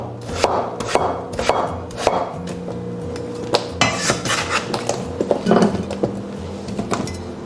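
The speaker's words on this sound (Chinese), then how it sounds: "还买了1小块这种冬瓜，把它的皮给它削掉。 最后切成小块备用。" A knife chops peeled winter melon into small pieces on a cutting board, giving irregular, close, sharp knocks with short pauses and light clatter of utensils between strokes.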